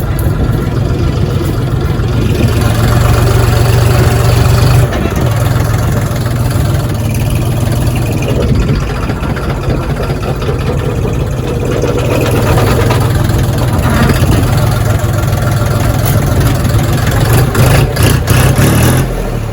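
A Foton FT 244 HXN mini tractor engine idles loudly and steadily for the whole stretch, a constant low rumble with slight shifts in pitch.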